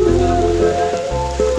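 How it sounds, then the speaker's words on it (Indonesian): Rain falling on a forest trail near the Curug Cibeureum waterfall, a steady broadband hiss of drops close by with a low rumble of flowing water underneath, continuous throughout. "Jadi sekarang hujan."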